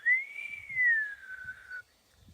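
A single long whistled note, a person imitating a whistle in a ravine in Tenerife, sliding slightly up then gently down, clear and fairly close, with faint low thumps underneath.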